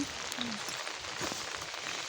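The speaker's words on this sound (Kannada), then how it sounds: "ಮಳೆ ಮಳೆ ಆಗಲೇ ಎಷ್ಟು ಜೋರು ಬರ್ತದೆ ಎಷ್ಟು ಬೇಗ ಕಮ್ಮಿ ಆಯ್ತಲ್ಲ" Rain falls as a steady, moderate hiss of drops on surfaces, a shower that came on hard and is now easing. It sounds close and continuous throughout, with no other clear sounds.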